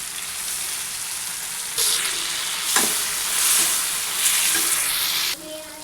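Chopped tomatoes frying for a South Indian kara chutney, sizzling steadily in a pan and swelling into louder hissing bursts as they are stirred, close up with no talk.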